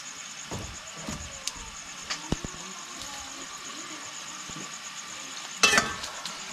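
Goat meat and skin tumble into a pot for pinapaitan, then a steady sizzle of frying runs under stirring, with a few sharp clinks and scrapes and a louder burst near the end.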